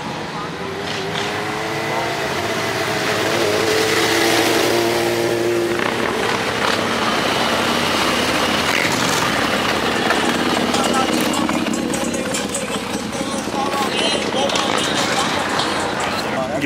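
Motorbikes revving at a pit and paddock cars-and-coffee meet, engines roaring loud and continuous with rising and falling pitch as they pass, crowd voices talking over the noise.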